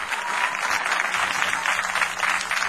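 Audience applause for a singer on a Greek comedy news show, a dense sustained clapping from a crowd, loud and steady for the whole stretch without a voice on top.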